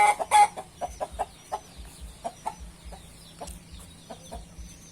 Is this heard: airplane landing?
no